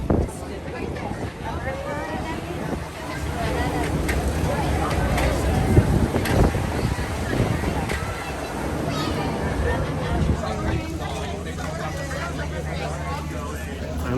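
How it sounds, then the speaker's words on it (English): Strong wind buffeting the microphone at Epcot theme park, a constant roaring rumble with gusts, under a busy background of crowd chatter. "It's also very windy today."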